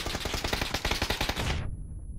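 Rapid automatic gunfire from a weapon in the battle royale game PUBG, a loud continuous burst of closely spaced shots lasting about a second and a half before cutting off abruptly to near silence.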